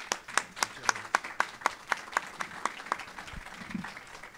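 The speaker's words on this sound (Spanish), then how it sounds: "para quien pido un fuerte aplauso, por favor" A small audience at a university event on organ donation claps for a legislator, with distinct individual claps forming a sparse, rhythmic patter that fades near the end, fairly close and modest in volume.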